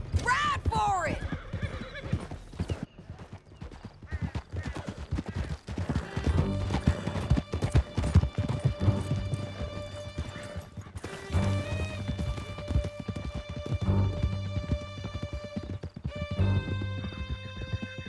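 Horses in Red Dead Redemption 2 gallop with steady clip-clop hoofbeats and an occasional neigh, running under a continuous musical score with voices talking over the ride.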